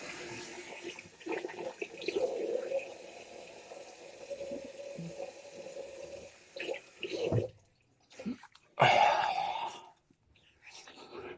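Water splashing and dripping as hands wet the face before a shave, uneven bursts of close splashing with a louder splash near the end, no talking.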